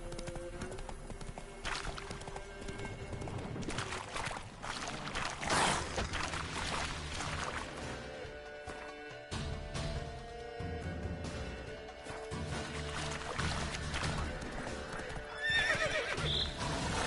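Geralt's horse Roach in the video game Witcher 3 gallops with a steady, driving clip-clop of hooves and lets out loud neighs and whinnies over a busy, continuous game soundscape.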